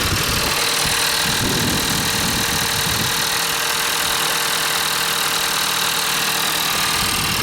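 A vehicle engine idling as it warms up, a continuous close rumble with a steady hum and a faint knocking texture, holding level throughout without talk.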